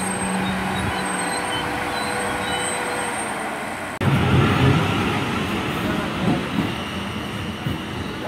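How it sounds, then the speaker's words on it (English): A Class 444 electric train pulls out of Brockenhurst station as a double-unit pairing, with a steady rumble that swells abruptly midway into louder, close wheel and traction noise, and someone speaks over it. "departing out there was 444-020 at the rear of a double pairing."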